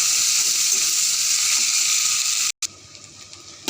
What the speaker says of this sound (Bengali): এই যে পেঁয়াজ কুচিগুলো করে রেখেছিলাম সেগুলো দিয়ে দেবো পেঁয়াজটাকে ভালো করে ভেজে নেব